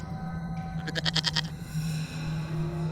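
A cartoon goat lets out a short, wavering bleat near the middle, loud and close over a steady background hum, with no talking.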